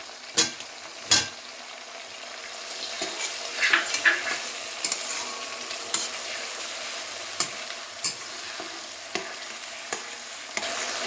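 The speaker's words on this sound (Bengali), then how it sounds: "এভাবে এই মশলাটা আমি কষাতে থাকবো" Masala with sliced onion frying in a pan, a steady close sizzle broken by occasional sharp spoon clinks and scrapes against the pan as it is stirred.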